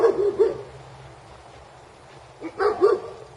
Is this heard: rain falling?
no